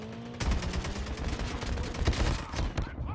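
Gunfire in the COD Mobile video game, a rapid run of automatic shots starting abruptly and rattling on with uneven bursts, fairly quiet in the mix.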